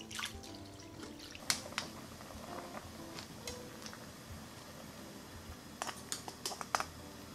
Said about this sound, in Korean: 칼국수 면을 전분기가 이게 빠질 수 있도록 물에 한번 헹구어 주겠어요